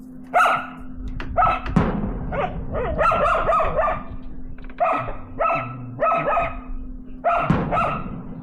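A dog barks repeatedly at fireworks in short bursts, fairly close, in winter in Two Harbors, Minnesota, with a steady low hum running underneath throughout.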